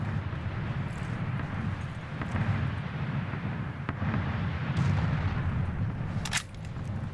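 Gunfire in the battle royale video game PlayerUnknown's Battlegrounds, dense booming shots blurred into a continuous rumbling barrage, loud and steady throughout.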